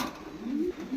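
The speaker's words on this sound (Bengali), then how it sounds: "এইটা হচ্ছে একটা লাল কবুতর পেয়ার" A pair of red pigeons cooing close by, with soft low rising coos repeating through the moment and no other sounds.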